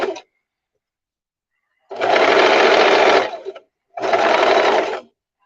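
A sewing machine stitches a pocket into the side seam of a spooky simple skirt, running in two loud, steady bursts of about a second and a half each, separated by silence, with no talk.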